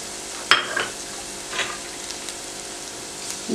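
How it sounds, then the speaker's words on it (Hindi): Spices with salt, chili and turmeric frying in a pan, a soft sizzle under a few light stirring scrapes and clinks, fairly quiet with no talking. "फ्राई करें चंद सेकंड के लिए।"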